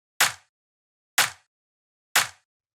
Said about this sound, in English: which was just this very fat, hard-hitting, mid-rangey, punchy clap